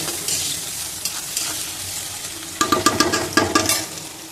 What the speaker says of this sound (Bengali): পেঁয়াজটা ভাজা ভাজা হয়ে আসছে, আর একটু ভাজা হবে